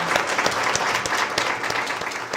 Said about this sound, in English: we should give the speakers a round of applause